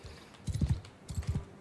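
Horse hooves clip-clop through a village in Mount and Blade II: Bannerlord, two quick bursts of four or five close, distinct hoofbeats separated by a short pause.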